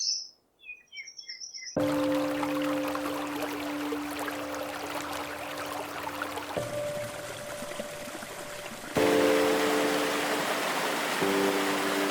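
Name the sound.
waterfall roaring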